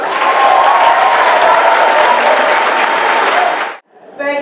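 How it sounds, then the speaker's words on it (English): A loud, dense burst of audience applause and some cheering for a speaker at a lecture series event rolls on steadily, then cuts off abruptly as a voice begins speaking. "so let's give her a round of applause."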